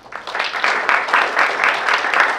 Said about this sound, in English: I would like to request all the students to give a huge round of applause for your